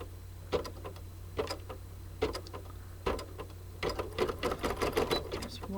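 An embroidery machine stitches a bee coaster design in the hoop, its needle tapping in quick rhythmic bursts of clatter with short pauses between runs, close and steady over a low motor hum.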